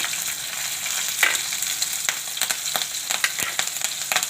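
Garlic, ginger and chillies fry in a hot pan, giving a loud, close crackling sizzle with frequent quick spatters and a few scraping stirs of a spoon.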